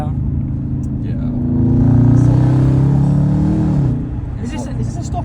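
A Jaguar XJR575 with a back box delete exhaust accelerating hard, its deep engine note swelling into a loud, rising roar for a couple of seconds before settling back to a rumble.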